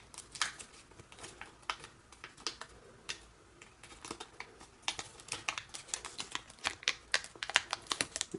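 Paper being folded into an origami cross bookmark: dense crisp crinkles, creasing snaps and rustles close to the microphone, quickening toward the end, with no voices.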